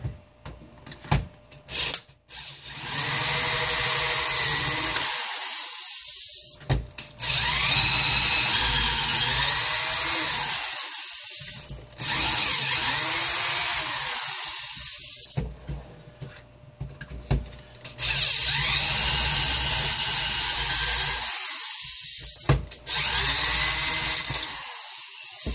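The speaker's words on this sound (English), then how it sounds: "drill the heads off." A power drill bores the screw heads off a space heater being scrapped: a shrill, high whine repeated in several long bursts, separated by short pauses, close and loud.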